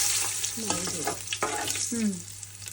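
Continuous hiss of cumin and asafoetida frying in hot oil for tempering, with scraping stirring strokes and a few brief tonal squeaks against a steady background hum.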